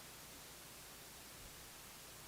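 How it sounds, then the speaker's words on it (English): A tape noise effect added in Mixbus, a very faint, steady broadband hiss like white noise, continuous and even with nothing else over it. "it's just going to add a little bit of white noise, a little bit of, tape noise kind of sound underneath everything"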